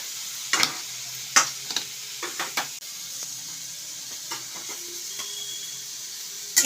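Capsicum and green chilli frying in a pan for Manchurian, with a steady soft sizzle under intermittent scraping and clinking of a spatula stirring against the pan, no voices.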